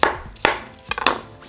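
A knife cuts through an English cucumber on a board in a kitchen, a few distinct chopping strokes spaced unevenly, close and fairly loud.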